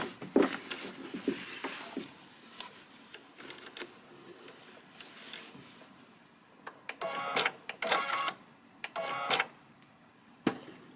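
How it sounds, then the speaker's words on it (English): A sewing machine stitches on a button, giving a few short, close mechanical bursts with quiet handling sounds and brief pauses between them. "I'm going to stitch the third button."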